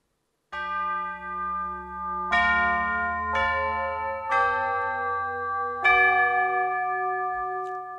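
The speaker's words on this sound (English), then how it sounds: "so the tubular bells sound great, very, very playable" Orchestral Tools Salu sampled tubular bells struck with hard mallets, five bright clanging strikes in a slow, uneven sequence, each ringing on with long overlapping sustain, clear and close with no voices.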